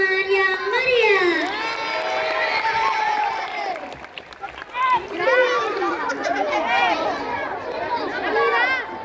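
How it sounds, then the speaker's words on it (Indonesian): An audience of children shouts and cheers with scattered clapping after a school colossal drama about the Battle of 10 November, lively and near, with high excited voices rising and falling in waves. "Sekali lagi mari kita beri tepuk tangan yang meriah."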